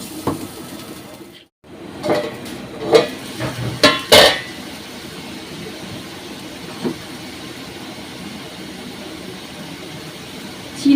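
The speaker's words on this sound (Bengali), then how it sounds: "এই মাছ ভাজার তেলেই দিচ্ছি।" Spice paste of ginger, tomato and cumin goes into the oil left over from frying fish, giving a steady hissing sizzle. A few sharp utensil clanks against the pan are heard as it is stirred.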